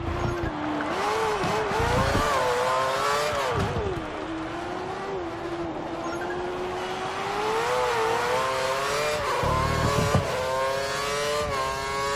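A Formula 1 race car in F1 2013 revs hard through a corner and accelerates out, its high engine whine rising and falling steadily with gear changes, loud and close, with no talking.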